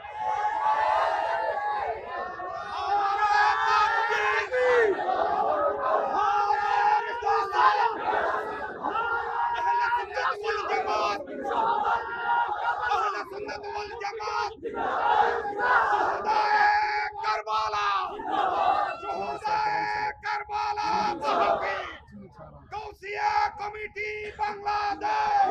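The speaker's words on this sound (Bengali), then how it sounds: "আমার সাথে কে কে আছেন হাত তুলে স্লোগান লন।" A large crowd at a Bengali Islamic sermon gathering roars slogans in unison with raised hands, loud rhythmic shouted chants repeating continuously and close.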